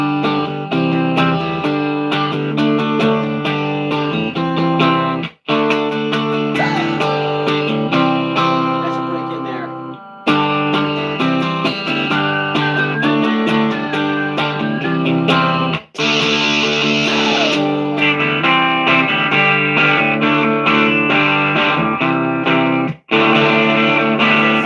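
A live rock performance with a steady, full guitar-driven arrangement under light distortion, played continuously at high level with a few brief breaks between sections.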